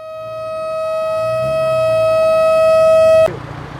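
A fire truck siren holds a loud, sustained tone that swells gradually, then cuts off abruptly, leaving faint background noise.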